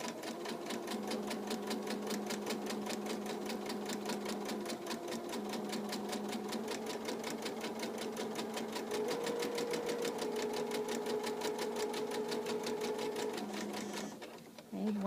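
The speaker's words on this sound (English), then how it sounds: "sewing through all of my layers" Sewing machine running a straight stitch through several layers of fabric, a fast steady mechanical chatter close by that keeps going for many seconds before slowing and stopping near the end.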